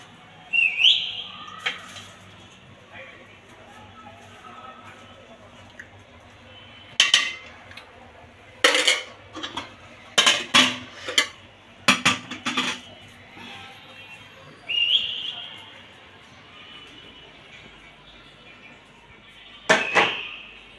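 Plates and cutlery clatter while food is served at home, sharp scattered clinks and knocks arriving in short clusters over a quiet room, with a few faint whistling sounds in the background.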